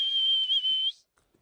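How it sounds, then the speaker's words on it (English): A person whistles one sustained, steady, piercing note at close range for just under a second, with a slight waver, then it cuts off into quiet. "Hey, that's how I whistle."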